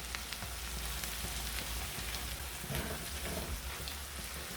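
Onions and dry spices fry in a pan for a brain curry: a steady, soft sizzle and crackle that holds at the same level throughout with no talking.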